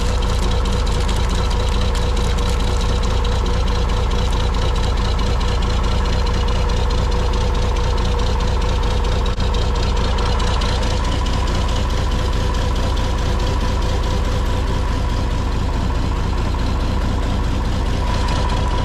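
Farm engine idling while warming up, a loud, steady low rumble with regular knocking pulses that holds unchanged throughout.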